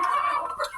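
A hen clucks in a short run of throaty, rhythmic calls, fairly close and clear, with no talking.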